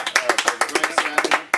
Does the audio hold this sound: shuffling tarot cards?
no